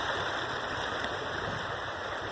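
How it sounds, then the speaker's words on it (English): A waterfall roars as a steady broadband rush of falling water, close and continuous with no pauses. "I'm going towards the edge of a waterfall"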